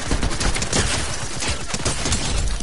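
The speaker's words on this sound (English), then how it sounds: "we got somebody in the back shooting" Gunfire in the Fortnite video game, a dense run of rapid shots crackling steadily and fairly loud with no pauses, no talking over it.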